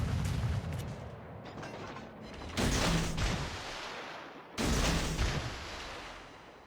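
Naval guns firing in a Sea of Thieves–style naval game, a clan battle against an enemy Kremlin battleship: two heavy booming salvos with rumbling tails, an earlier lighter crackle of fire before them, loud and close.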